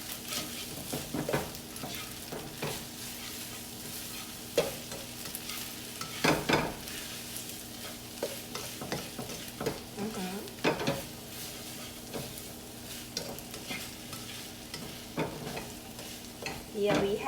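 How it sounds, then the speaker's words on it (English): Vegetables stir-frying for pad thai in a hot pan, with a steady sizzle and irregular scrapes and clanks of a utensil against the pan, fairly quiet and close. "Just add vegetable in here and stir together."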